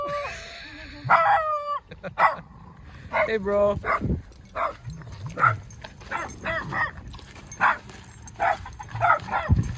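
A goat-dog crossbreed outside a rural home gives yips, whimpers and short barks, close by and mixed in with people chatting and greeting each other.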